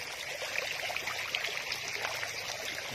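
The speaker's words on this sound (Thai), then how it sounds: "ระบบน้ำวนนะครับ" Circulating swirl of water in a golden apple snail nursery pond, a steady close rushing and trickling flow with no gaps and no voices.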